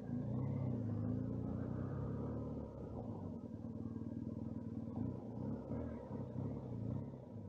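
A BMW GS motorcycle being ridden, its engine a steady low rumble with a faint wind hiss, throbbing gently as the speed shifts.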